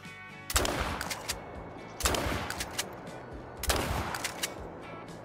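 A shotgun fires at a bird in the hunting game Call of the Wild: three loud, close blasts spaced about one and a half seconds apart, each with a rolling echo tail.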